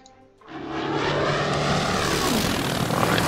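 A propeller airplane flying in the naval war strategy game Order of Battle: Pacific, with a steady, loud engine drone that swells up from near silence and holds constant.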